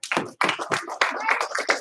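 A group of kids clap in quick, sharp bursts, one clap and then a pair of claps, close and loud with brief gaps between them.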